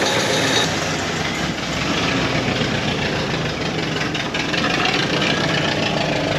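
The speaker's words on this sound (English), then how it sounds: "The whole side of this exhaust is rusted away, so it's not sounding great." A Ford Fairlane barn find idles with its exhaust side rusted away, a loud, rough, continuous rumble with knocking texture and raspy exhaust noise, steady throughout.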